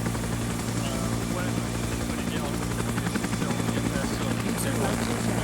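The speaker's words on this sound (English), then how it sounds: "Get these helos down fast." Helicopters fill the scene with a loud, steady rotor thump and engine drone that never lets up, during a military-style game operation, while voices are heard faintly underneath.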